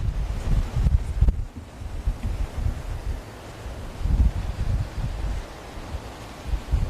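Gusty wind buffets an outdoor microphone at the dunes on a windy day, with uneven low rumbling bursts that rise and fall through the clip.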